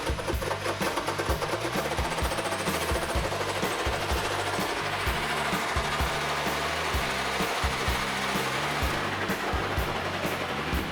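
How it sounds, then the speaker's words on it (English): Fine-tooth hole saw cutting into the metal body of a new Toyota in a workshop, a loud continuous grinding whir with rhythmic chattering pulses, steady and close throughout. "He's got a fine tooth hole saw, so it doesn't dig in and bite like if you use the coarse ones, like on a wood saw."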